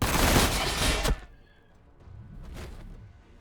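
Gunfire from Astra Militarum units in the strategy game Warhammer Battlesector: a loud, dense burst of rapid shots for about a second, cut off sharply, then a quieter rumbling thud and whoosh trailing after.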